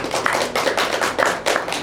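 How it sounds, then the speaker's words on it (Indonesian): Brief applause from a small audience at a talk-show style discussion, a short burst of patters and claps pulsing in a few waves. "tepuk tangan dulu dong."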